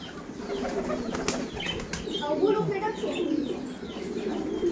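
Pigeons and chickens are fed grain, with soft cooing, chirps and bursts of wing flapping over a constant outdoor background while someone speaks nearby.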